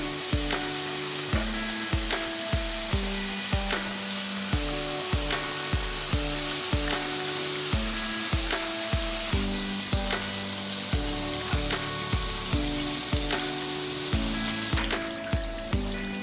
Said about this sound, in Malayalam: ഇങ്ങനെ ഓരോന്ന് എണ്ണ ചൂടായതിനു ശേഷം ഇട്ട് കൊടുക്കാം.